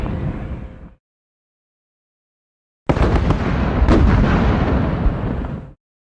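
Heavy gunfire from the war game Squad Battles Eagles Strike, a short blast that cuts off, a pause of silence, then a longer loud roaring burst of fire that stops abruptly.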